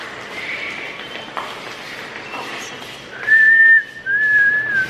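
A person attempts to whistle in a Beijing subway, producing a couple of thin, wavering whistle notes near the end after quiet footsteps and ambient station noise.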